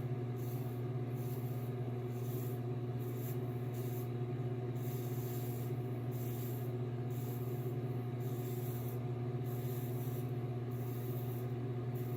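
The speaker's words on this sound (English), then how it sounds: "You can hear that little single edge blade cutting." A steady, close scraping and rasping of a single-edge razor blade shaving a head, with rhythmic strokes over a constant low hum.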